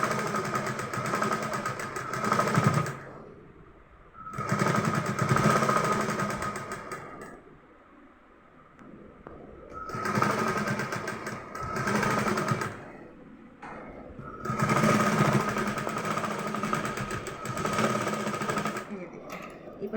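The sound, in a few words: sewing machine stitching teddy bear head pieces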